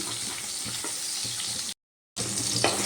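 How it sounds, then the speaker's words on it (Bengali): Tomato frying in oil in a pan for a Bengali potol recipe, a steady close sizzle with light stirring scrapes, broken by a short silent gap before the sizzling resumes. "এবার টমেটোটা একটু তেলে ভেজে নেব"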